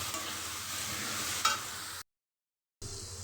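Capsicum, onion and green chili frying in a pan, a steady broadband sizzle with a brief stirring clatter near the middle, cutting to silence before the sizzle resumes.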